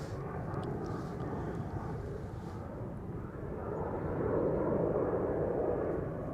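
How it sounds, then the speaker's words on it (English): A KLM airliner in Orange Pride livery, flight 515 to Zanzibar, takes off from the centre runway at Amsterdam Schiphol, a steady distant jet roar that swells slightly toward the end, with no talking. "Next should be the Orange Pride, the PHBV-8 to Zanzibar, KLM Flight 515, taking off from center"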